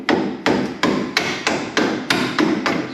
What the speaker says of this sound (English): you can tap it through with a little hammer or whatever, get it to go all the rest of the way